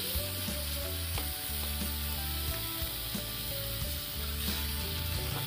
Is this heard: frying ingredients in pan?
yes